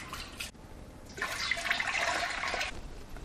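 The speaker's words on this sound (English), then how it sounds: "we're going to grab 2 gallons of water and add to our pot" Two gallons of water poured into a pot for brewing American pale ale make a soft, rushing splash that swells after a quiet start and keeps on steadily, faint and close, with no voices.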